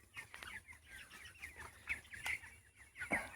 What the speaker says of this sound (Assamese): এইখন হ'ল মোৰ কোম্পানীৰ মুৰ্গীৰ ফাৰ্ম